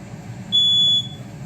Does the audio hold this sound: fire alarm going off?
yes